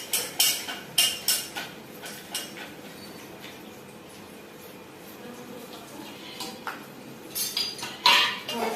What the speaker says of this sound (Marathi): चमच्याने हलवायचं